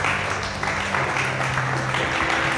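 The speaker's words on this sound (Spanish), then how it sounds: "Denle un aplauso al Señor Jesucristo a esta hora." A church congregation applauds for Jesus Christ during a worship service, a steady wash of clapping with voices mixed underneath and some tonal music or singing in the background.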